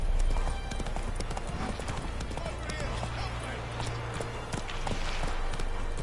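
Horse hooves clop in a brisk, even rhythm, fairly close and steady throughout, with a low rumbling background and some voice sounds mixed in.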